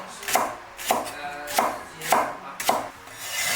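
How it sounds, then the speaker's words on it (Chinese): Knife chopping a green onion into short lengths on a cutting board, five crisp chops at a steady, evenly spaced rhythm, close and fairly loud, with no talk. "再准备一根大葱，把它切成小段"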